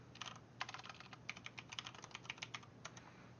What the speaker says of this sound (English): So we're going to type in the name.